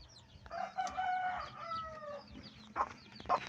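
A mother hen clucks and squawks nearby in quick bursts, with softer peeps from her chicks and shuffling around her.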